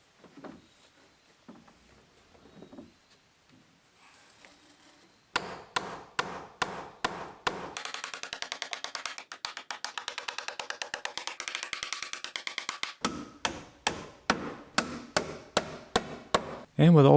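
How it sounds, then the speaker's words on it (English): Hammer blows nailing T1-11 siding onto an off-grid cabin from scaffolding: sharp, close strikes in uneven runs, with a stretch of rapid, evenly spaced hits in the middle, following quieter handling sounds and faint talk at the start. "get up and finish nailing off the siding of the"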